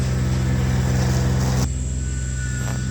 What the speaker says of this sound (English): excuse the noise of the grass cutter